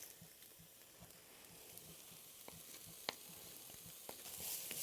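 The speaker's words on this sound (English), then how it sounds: "you just want to fry that off until you can really smell the ginger and garlic" Ginger and garlic frying in a pan, a faint, soft sizzle with light scattered ticks and pops, steady and close, with no talk over it.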